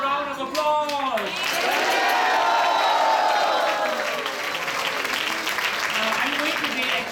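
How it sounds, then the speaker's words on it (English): Loud audience applause and cheering after a spiritual drama staged in Singapore, a sustained wash of clapping with bright voices and whoops riding over it throughout. "Can we have a loud round of applause?"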